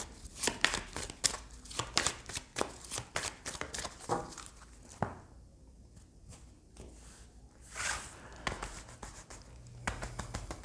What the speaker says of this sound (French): on va prendre les cartes de l'oracle des astres